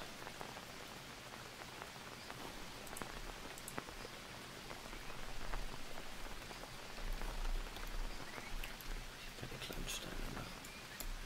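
Steady rain pattering in the jungle survival game Green Hell, a continuous wash of drops on surfaces with occasional louder swells, with people talking over it.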